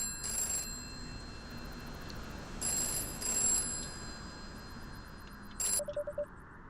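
A telephone rings in the video game Ultra ADHD, repeated electronic bell bursts at regular intervals over a low background hum, followed by a short beeping tone near the end.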